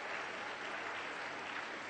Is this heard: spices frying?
no